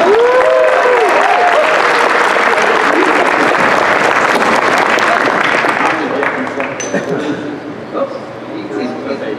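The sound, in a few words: audience applause for a stage act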